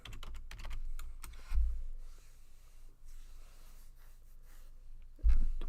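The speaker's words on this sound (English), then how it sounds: "y'all can hear the keyboard" Keys clatter on a computer keyboard in quick bursts at the start and again near the end, with a quieter hum and low thumps in between.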